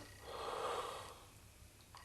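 A single drawn-out yawn, a long breathy exhale that swells and fades, ending with a small catch of breath.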